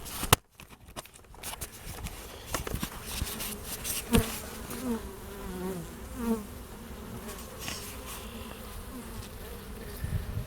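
Honey bees from a caught swarm buzz steadily in an opened backyard hive during a spring inspection. The hum is close and continuous, with handling knocks and scraping of the hive parts at the start.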